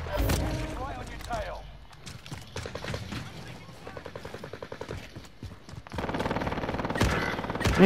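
A shooter video game fires rapid automatic gunfire in rattling bursts amid dense game noise, fairly loud, with a voice talking over parts of it.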